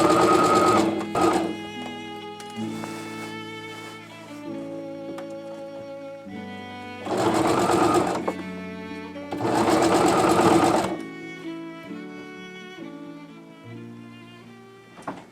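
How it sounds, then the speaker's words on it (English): Close up, a sewing machine stitches skirt pieces onto the bodice of a 1950s-inspired coat mock-up, running in several bursts of fast, whirring stitching with short pauses between them; faint music plays in the background. "I then sewed all the skirt pieces to the bodice piece."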